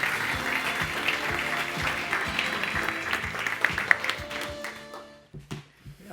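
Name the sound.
audience applause for a speaker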